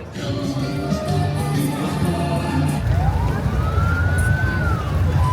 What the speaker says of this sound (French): Pourquoi il y a des bruits de sirène genre? Ouais, c'est des pompiers